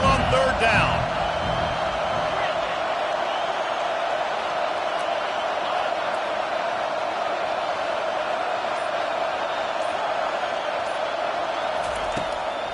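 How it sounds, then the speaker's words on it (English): A home crowd in EA College Football 25 roars in a sustained, steady wall of stadium noise, with a brief thump near the start. "Here comes his home crowd as the defense tries to get off the field on third down"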